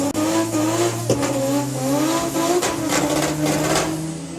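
A six-cylinder doorslammer drag racing car accelerating hard down the strip, its loud, steady engine note rising through the gears with a brief shift break, close and continuous for several seconds.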